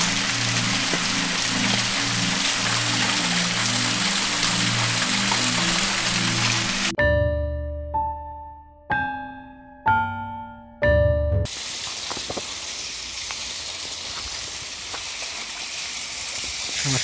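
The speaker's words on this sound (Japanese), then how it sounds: "滝の音、水の音っていうのがめちゃくちゃ怖いですね。" Steady roaring wash of a waterfall and rushing water in pitch darkness at night, loud and continuous for the first seven seconds, broken by a run of electronic beeping tones, then returning just as dense.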